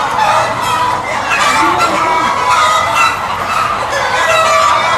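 Chickens cluck and squawk continuously at a government poultry hatchery in Jagdalpur, Bastar, a dense, loud chorus of many birds filling the whole stretch.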